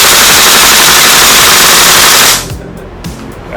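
Two airsoft rifles fire together on full auto, a dense, loud, continuous rattle of rapid shots that cuts off after about two seconds, leaving quiet room noise and faint clicks.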